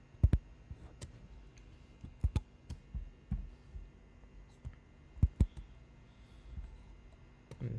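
Keys on a computer keyboard click in scattered, irregular taps, some in quick pairs, faint and close in a quiet room.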